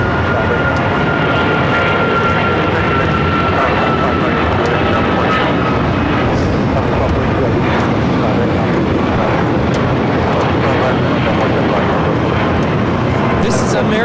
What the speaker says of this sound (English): This is American Airlines 1268 taking off to Dallas, Fort Worth on the 777-200ER.